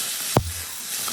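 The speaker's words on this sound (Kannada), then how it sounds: "ಒಮ್ಮೆ ಒಗ್ಗರಣೆಯಲ್ಲಿ ಬಾಳೆಕಾಯಿಯ ಹೋಳುಗಳನ್ನು ಹಾಕಿ ಚೆನ್ನಾಗಿ ಮಿಕ್ಸ್ ಮಾಡಿಕೊಂಡು" Raw banana pieces drop into hot tempering oil in a pan for a green banana palya, giving one short, loud burst of sizzling followed by a faint low hum.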